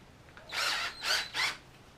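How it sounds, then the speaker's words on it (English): A power drill fitted with a Berkley fishing line stripper spins in three short bursts, each a whirring, hissing whine of about half a second, close by in an otherwise quiet room. "It's a little deal that goes on a power drill."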